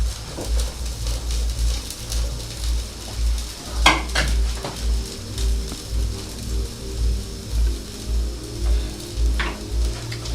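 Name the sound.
fries frying in a hot pan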